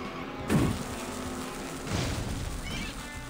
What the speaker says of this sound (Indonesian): kok bisa meledak ya, kenapa ya?